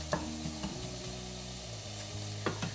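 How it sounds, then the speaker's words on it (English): Salted onions sizzle steadily in a pot for lentil soup, with a spoon scraping and stirring through them in a few soft strokes, close and alone. "So I have some salt, I'll just sprinkle that in. Give it a little mix"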